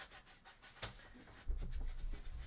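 Hand sanding of a cosplay chainsword prop, a steady abrasive rubbing that strokes back and forth, close up and fairly quiet with no talking.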